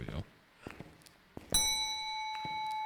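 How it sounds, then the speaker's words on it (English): A bell rings inside a video game, a bright metallic strike that rings on with a long sustained tone, preceded by a few sharp clanks and thunks, with a player speaking around it. "Hearing the bell for good luck."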